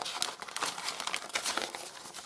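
Gift wrapping paper is handled and crinkled up close, a quick series of dry, irregular rustles and crackles with no voices.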